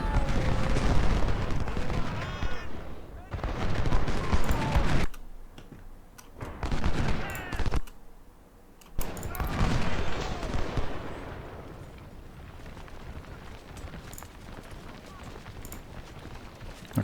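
Musket volleys crackle in the Ultimate General: Civil War game during a Chickamauga battle, in loud rolling bursts separated by short pauses. The gunfire then fades to a quieter background rumble, and someone talks over parts of it.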